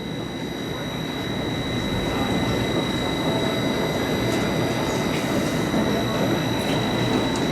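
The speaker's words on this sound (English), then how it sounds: "Here comes the train again." The Fønix roller coaster train at Fårup Sommerland rushes past as a sustained loud roar and rumble of wheels on track, steady throughout with a faint high whine over it.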